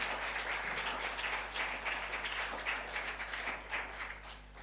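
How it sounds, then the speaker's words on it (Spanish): A church congregation applauds at a Bible study, a dense, continuous patter of many hands clapping heard from a distance at low level, fading slightly toward the end. "Dele un fuerte aplauso al Señor."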